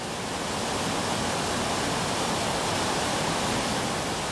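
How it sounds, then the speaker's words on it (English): Steady, dense roar of Brooks Falls on a salmon river in Alaska's Katmai Peninsula, broadband rushing water holding constant and loud throughout with no voices. "Brooks Falls in Alaska's Katmai Peninsula"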